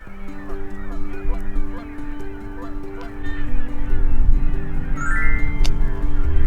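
A flock of tundra swans calls in layered, honking and whooping notes, steady and fairly close, with a brief high whistle near the end.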